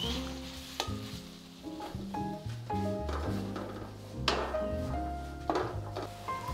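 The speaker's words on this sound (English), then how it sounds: "now the paste is ready to be fried" Tamarind sauce paste frying and being stirred in a pan, a steady sizzle broken by scraping strokes, with tonal background music underneath and no talking.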